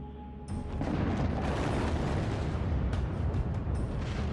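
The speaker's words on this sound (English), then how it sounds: "75 tons of ammonium nitrate explosive shatters the layer of sandstone covering the 15-foot thick coal seam" A 75-ton ammonium nitrate blast shatters the sandstone layer above a 15-foot coal seam at a surface mine, a sudden loud deep boom that swells into a long sustained roar of breaking rock and debris.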